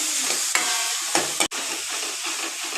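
Chopped tomatoes and coriander are stirred into a sizzling pav bhaji paste in a pan, a steady fry hiss broken by a few scraping strokes of the spoon, close and fairly quiet, no talk.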